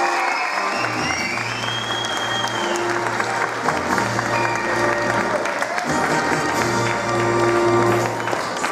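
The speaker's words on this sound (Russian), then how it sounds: "Мы под бурные аплодисменты провожаем вас в зал" Audience applause at the opening ceremony of the 9th international folk theatre festival in Vyazma, a sustained wash of clapping filling the hall, steady and loud, with music or a voice faintly underneath.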